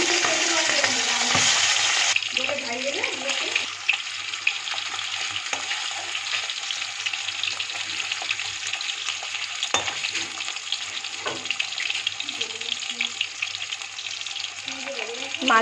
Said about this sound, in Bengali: তেল গরম হয়ে গেছে, এবার একে একে সব মাছ দিয়ে দেবো।